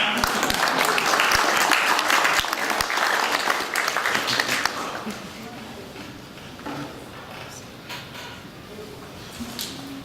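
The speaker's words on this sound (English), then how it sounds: "Let's have a round of applause." Wedding guests break into loud, dense applause at a ceremony, sustained for about four seconds before fading into quieter room sound with scattered claps and murmurs.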